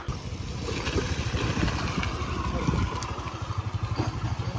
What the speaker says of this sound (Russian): Все-таки кто-то умудряется спускаться на байке.